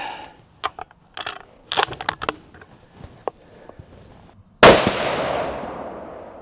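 A Bergara B14 Ridge bolt-action rifle in 6.5 Creedmoor fires a single loud shot outdoors, a sharp blast with a long decaying tail, preceded by several light clicks and handling taps.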